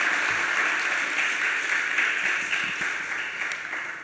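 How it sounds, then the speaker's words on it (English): A church retreat audience applauds after a sermon, a dense, continuous clapping that stays full and even before slowly easing toward the end. "Let's give him a round of applause."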